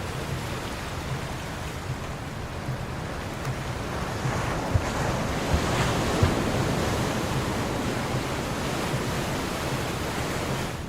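High sea waves wash around a yacht off Marsa Matruh, a steady rushing surf with wind buffeting the microphone and a few soft thuds of water against the hull.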